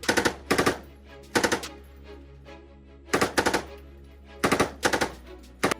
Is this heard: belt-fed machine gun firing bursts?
yes